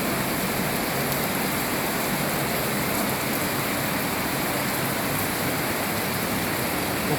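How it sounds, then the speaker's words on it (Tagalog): Steady rain pours down outdoors onto garden plants, a dense, constant hiss of falling water with no pauses, close and fairly loud throughout. "Ulan, ulan, ulan."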